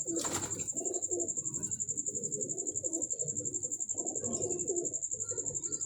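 Teddy pigeons coo in a steady, low burbling chorus close by, under a constant high insect-like whine, with no talk.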